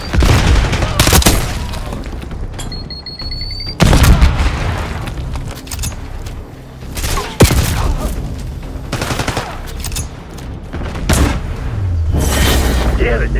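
Explosions and heavy gunfire in a first-person military shooter video game, with a Semtex grenade blast among repeated loud booms and bursts of rapid fire, over game radio chatter and voices.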